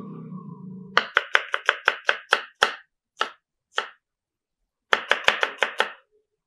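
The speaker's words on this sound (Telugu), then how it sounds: "ఉల్లిపాయలు ఇట్లా నిలువుగా స్లైసెస్ కింద కట్ చేసుకుందాము" Knife chopping onions on a cutting board in a home kitchen: a quick run of crisp chops, a pause with a few spaced strikes, then another fast burst, close and clear with no talk.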